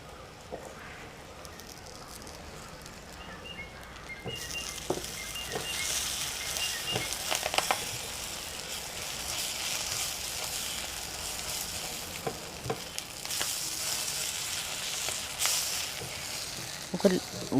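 Curry leaves crackle and sizzle in hot oil in a pan, a soft fry at first that bursts into louder, denser spitting partway through, with sharp pops scattered throughout.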